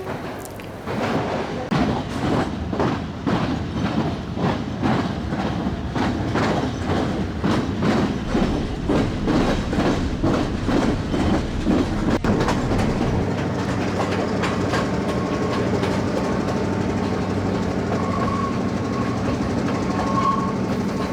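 A train runs along Sri Lanka's high mountain railway, its wheels clicking rhythmically over rail joints in a steady, continuous rumble that shifts and smooths out partway through, heard from on board with no talk.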